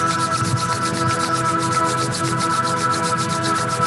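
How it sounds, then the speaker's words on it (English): Palms rubbed briskly together during a meditation and pranayama session, a fast steady swishing friction repeating in quick even strokes, close and loud, with no talking. "now rub your palms"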